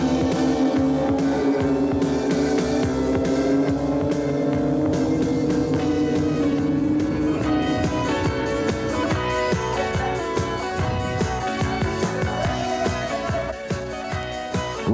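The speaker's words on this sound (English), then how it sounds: "Rainey right behind Merkel as they fly down the straightaway, nose to tail at over 140 miles an hour" Racing motorcycles at a 1983 AMA Superbike race, including a Kawasaki GPZ750, scream down the straightaway nose to tail at over 140 mph, a loud, sustained engine whine with shifting pitch that runs unbroken the whole time.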